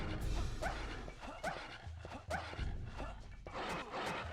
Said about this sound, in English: No, dogs!